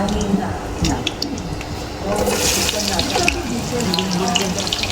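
Tap water running and splashing into a sink while ingredients for pulao and dal are rinsed, a steady close gush with squishy handling noises and a voice talking over it.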